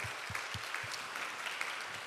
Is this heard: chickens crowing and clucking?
no